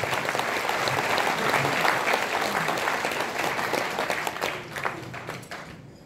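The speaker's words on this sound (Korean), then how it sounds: "박수 한번 주시면 더 열심히 하겠습니다." An indoor audience at a book launch event applauds as voice actors take the stage, sustained clapping from many hands that stays strong for several seconds, then thins and tapers off at the end.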